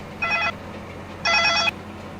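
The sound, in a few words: telephone ringing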